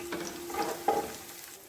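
Whole garam masala of black pepper, cumin, cloves and cinnamon fries in hot oil in a pot for biryani. The sizzle is low and steady, and a stirring scrape and clink sounds near the end.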